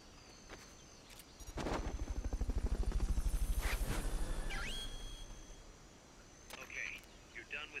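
A helicopter in the video game Metal Gear Solid: Peace Walker thumps in loudly, its rotor beating in a fast, steady rhythm that swells, then fades away, with game sound effects and faint chirps around it.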